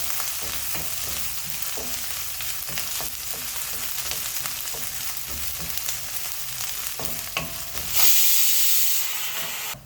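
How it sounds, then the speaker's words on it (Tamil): Onions sautéing in a pan for a South Indian tomato buttermilk curry, a continuous close sizzle with scattered spatula scrapes, rising to a louder hiss near the end, no voices. "ஆனியன் நல்லா வதங்கட்டும்"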